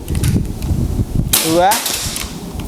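A Boca PCP air rifle with a big-game spec of 900-plus fps fires once: a single sharp crack with a ringing tail, set against a murmuring voice and background noise.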